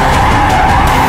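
Tyres on a four-wheel-drive car without traction control skid and squeal under throttle with the steering on full lock, a loud, sustained scrubbing screech with a steady tonal whine throughout the short burst.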